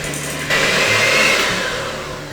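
An electric mixer beats sugar in a bowl for lamingtons, a steady loud whirring hum that jumps in pitch and volume partway through, running alone without talk.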